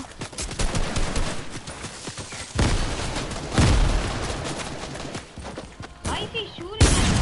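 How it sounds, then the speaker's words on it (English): Gunfire in Fortnite, rapid bursts of automatic fire and heavy shots arriving in loud clusters, some booming, with gaps between volleys and people talking over the shooting. "Why is he shooting?"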